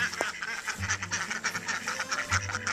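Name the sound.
ducks quacking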